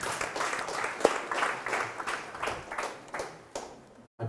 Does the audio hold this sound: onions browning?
no